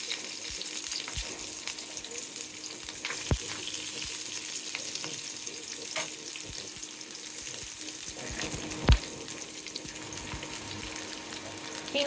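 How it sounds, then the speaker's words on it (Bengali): Boiled bamboo shoots fry in hot oil in a pan, giving a loud continuous sizzling hiss close by, broken by a few sharp clicks and pops, with no speech. "একটা প্যানে তেল দিয়েছি, তেল মোটামুটি ভালোই গরম হয়েছে। তো এই যে যেগুলো কেটে রেখেছিলাম সেগুলো দিয়ে দিচ্ছি।"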